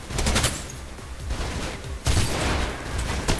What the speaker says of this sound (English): Eat my machine gun!